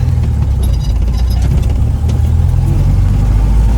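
A Bradley GT2 kit car, one of 500 built, driving off along the Dalton Highway in Alaska; a low, steady engine rumble with road noise, constant and close, no voices.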